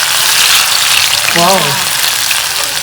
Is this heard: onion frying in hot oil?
yes